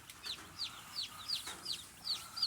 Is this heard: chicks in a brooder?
yes